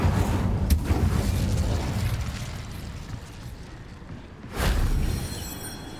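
A fire spell, Incendio, cast in the Hogwarts Legacy video game: a deep booming burst early on, then a rumbling lull, and a second loud whooshing blast of flame near the end.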